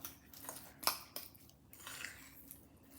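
A spoon works through egg mayonnaise filling mixed with chopped green leaves in a bowl, making soft squishes and a few light clinks of the spoon against the dish. The sounds are close, quiet and uneven, with no talk.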